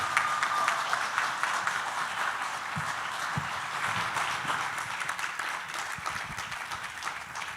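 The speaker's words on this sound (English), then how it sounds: "Another round of applause." Audience applause fills a hall after a live song performance at a talk event, steady, dense clapping throughout, fairly loud and sustained with no voices over it.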